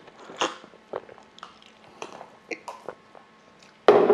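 Crispy guobaorou, sweet and sour pork with a chewy rice-cake-like center, is bitten and chewed up close, giving a series of separate crunchy bites and chews that end in a louder, sharper crunch.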